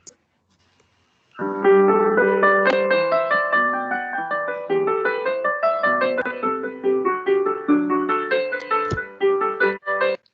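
Bach's "Jesu, Joy of Man's Desiring" plays as a recording, an instrumental piece with a flowing, steady melody over sustained harmony, clear and alone with no talking.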